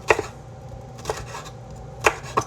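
A knife rough-chops al pastor ingredients on a board, four sharp, close thuds at uneven intervals with quiet pauses between, no talking.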